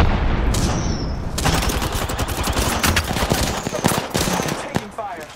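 Rapid gunfire rattles through a firefight in the Apex Legends shooter game, dense close bursts with booming impacts and sharp cracks running continuously, with a voice speaking briefly under it.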